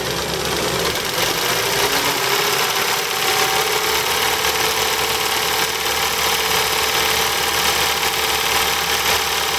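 BMW E30 318i four-cylinder engine idling steadily while warming up, a constant close hum with a fine ticking texture, loud and unbroken, no talk.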